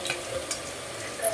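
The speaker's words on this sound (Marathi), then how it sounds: "तेल गरम झालं की हा बघा बारीक लसूण चेचून घेतला तो मी टाकते तेलामध्ये" Crushed garlic hits hot oil in a pan, giving a brief steady sizzle and crackle throughout.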